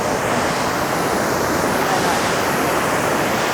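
Tinago Falls in Biliran rushing nearby, a loud, dense, unbroken roar of falling water filling the whole stretch with steady broadband noise.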